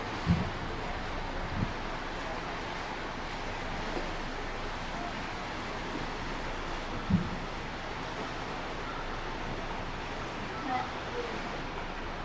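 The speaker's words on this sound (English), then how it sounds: "It's very windy, I hope you can hear me." Strong wind gusting at the seaside in Porto, Portugal, a steady broadband roar buffeting the microphone with faint surf beneath and a few brief thumps.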